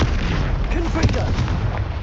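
The Confringo blasting spell goes off in Hogwarts Legacy amid a loud, continuous rumble of booming impacts during a spell duel, with a voice briefly heard over the blasts.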